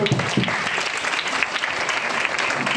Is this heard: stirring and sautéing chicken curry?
no